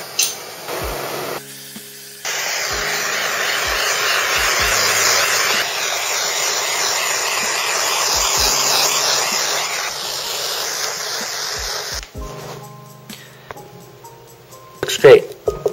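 A blow torch flame is played over a freshly poured ArtResin surface, giving a loud, steady roaring hiss that runs for roughly ten seconds before cutting off, with brief handling clicks before and after.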